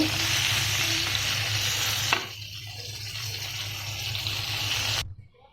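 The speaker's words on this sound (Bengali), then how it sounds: "আমার তেলটা গরম হয়ে গেছে, আমি এক এক করে মাছগুলো দিয়ে দিব।" Fish fries in hot oil with a loud, continuous crackling sizzle that eases off slightly midway, then cuts out near the end.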